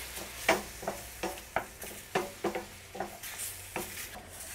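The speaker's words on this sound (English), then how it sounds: "And this is going to cook very quickly because this shrimp has been cut in half." Shrimp cut in half cooking in a pan with a splash of dry sherry, a soft steady sizzle broken by a dozen or so close stirring scrapes and taps of a utensil.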